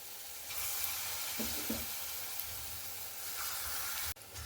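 Palm fruit fritters frying in hot oil, a steady close sizzle and hiss that swells after the batter goes in and holds evenly, with a few faint clinks and a brief drop at the end.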